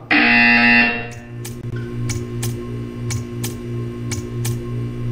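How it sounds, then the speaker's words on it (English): A loud buzzer sounds in the video game Portal 2, a harsh tone lasting about a second, followed by a low steady hum and a series of sharp ticking clicks at a regular pace. "When you hear the buzzer, stare at the art."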